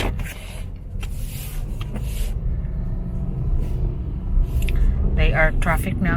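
Town road traffic in Poblacion, Barili, Cebu, with a steady low rumble of cars and engines moving nearby, brief higher whines and clatter, and people talking over the noise throughout.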